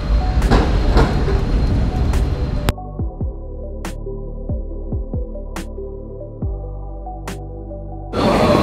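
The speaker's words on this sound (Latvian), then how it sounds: "Tramvajs brauc pa ielām." Tram running through city streets, loud rumbling and clattering with sharp metallic clicks, then a quieter stretch of rhythmic wheel clacks and squeal-like tones before the noise swells again.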